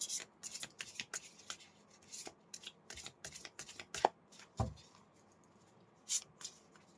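Tarot cards shuffled by hand, a close, quiet run of riffling slaps and soft flicks in irregular bursts, with faint rubbing between them.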